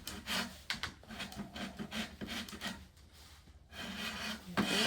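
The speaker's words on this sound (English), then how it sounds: "Scrapes it off." Scraper dragged across heat-softened paint on wooden trim, giving repeated rasping strokes close by with short pauses between them, no talking.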